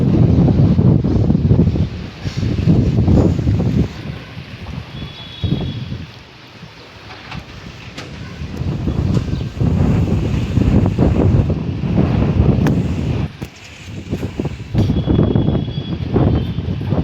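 Strong wind buffets the microphone outdoors on a rooftop before rain, loud rumbling gusts that surge and drop in waves over the whole stretch, with no talking.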